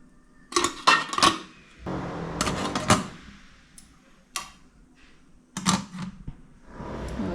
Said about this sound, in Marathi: आता त्याच्यामध्ये आपली भांडी ठेवूया.